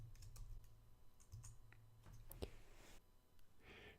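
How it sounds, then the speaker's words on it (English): A password typed on a computer keyboard and then the enter key pressed, heard as a quiet, irregular run of soft key clicks close by, no talking. "Put the same password in again and hit enter."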